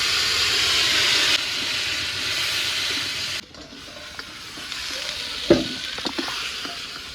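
Cumin, bay leaf and chopped onion hitting a hot pan, a loud hissing sizzle that drops off sharply partway through, followed by quieter frying with a few clattering knocks.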